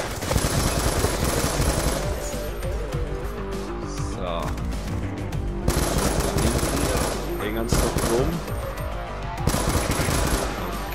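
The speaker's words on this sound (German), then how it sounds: "Gegen das Maschinengewehr haben sie nicht viel Chance, die Freunde." Machine gun fire in the video game Call of Duty Black Ops II, loud sustained bursts of rapid gunfire with short pauses between volleys, dense and close, with a voice talking over it.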